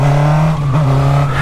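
A loud, close Honda Hornet motorcycle engine holds a steady high rev, its pitch dipping briefly before climbing back.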